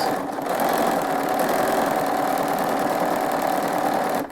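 Sewing machine stitching an eyelet stitch for quilting runs as a loud, steady, continuous mechanical whir close by, with no pauses and no voices.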